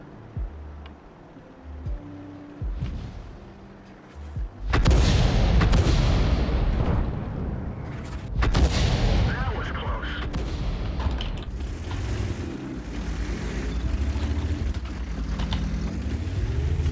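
Tank cannon fire in World of Tanks, aimed at an enemy tank's tracks: heavy booming shots with a long rumbling tail, a big blast followed by another, over continuous battle noise with someone talking.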